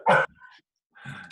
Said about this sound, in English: mute the dog